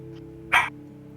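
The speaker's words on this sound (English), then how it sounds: "puppy's barking" A single short, high yip from a small puppy, sharp and close, over a low background hum.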